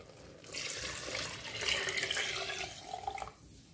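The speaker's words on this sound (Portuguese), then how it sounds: "E agora eu vou colocar a água." Tap water runs into a cooking pot for a bean and tripe stew, a steady splashing stream that swells midway and then tapers off, with no talking.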